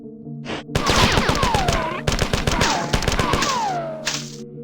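Sustained assault rifle gunfire in a sci-fi shooter game, loud rapid bursts of shots with whining ricochet-like tones, pausing briefly around two seconds and again near four.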